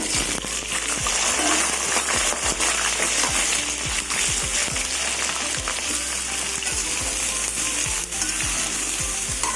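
Vegetables hit hot oil seasoned with dried chilli, bay leaf and panch phoron, giving a steady loud sizzle and crackle with occasional stirring scrapes throughout, no talking.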